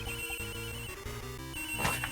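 Several phones ring at once in the Ace Attorney Investigations 2 video game, an overlapping, steady electronic ringing pattern that repeats in a looping rhythm with a brighter chime near the end.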